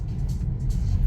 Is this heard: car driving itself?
yes